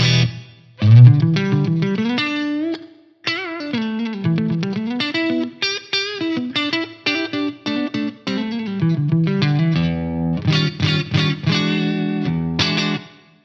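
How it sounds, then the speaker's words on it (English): Electric guitar through a Rocktron Chameleon 2000 reverb, decay at about halfway, playing a melodic line of picked notes and chords with lingering tails, loud and alone. "Let's bring a bit of reverb in here."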